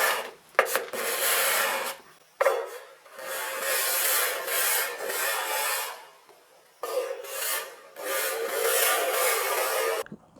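A sharp card scraper drawn across wood, lifting fine wispy shavings in long rasping strokes, three main passes separated by brief pauses, close and fairly loud with no talk.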